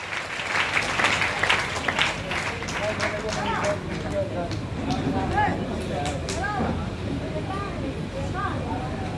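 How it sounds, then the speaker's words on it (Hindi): An audience at a gathering breaks into loud applause, heavy clapping at first that settles into steadier clapping while voices and cheers carry over it. "इनके सम्मान में जोरदार तालियां हो जाए साथियों"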